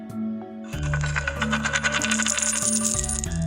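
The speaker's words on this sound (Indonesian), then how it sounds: "Koin masuk, kemungkinan ada pesan." A coin-drop sound effect rings out: a bright metallic clink followed by a shimmering, chiming cascade of tones that sustains loudly for a few seconds, with no speech.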